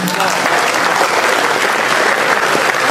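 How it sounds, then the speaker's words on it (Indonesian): Audience applause at a public gathering in Samarinda, East Kalimantan: dense, loud, continuous clapping from a crowd, close and sustained throughout. "Aplaus."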